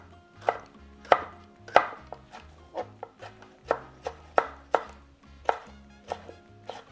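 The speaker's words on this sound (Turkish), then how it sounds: "Böyle yarım domates ekleyeceğim ama içerisindeki bu çekirdekli kısmını alacağım. Sulandırmasını istiyorum çünkü. İncecik kıyacağım onları da." A knife finely chopping deseeded tomato halves on a cutting board for salsa, a rhythmic series of about a dozen crisp thuds at a steady pace, close and distinct with no speech.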